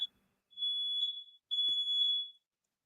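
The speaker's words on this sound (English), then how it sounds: "Those are my smoke detectors, so I'm not bailing." Household smoke detectors emitting two long, shrill electronic beeps in succession, steady and piercing, separated by a brief gap and followed by silence.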